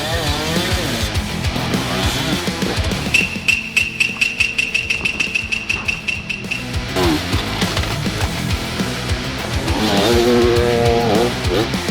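Dirt bike engine at a hard enduro race in the wild mountains of Romania, revving in a loud, busy mix with a rapid run of regular sharp pulses in the middle, then surging again near the end.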